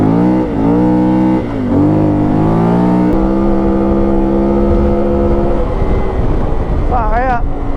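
A CFMoto 450 motorcycle fitted with a new exhaust accelerating through gears on dirt, loud rising engine revs with shifts, recorded close on the bike amid wind noise, with a rider's voice briefly heard.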